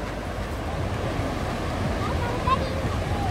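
Steady wash of surf and crowd murmur on a busy beach at Praia do Forte in Cabo Frio, with a broad constant roar, faint distant voices and a brief brighter sound near the end.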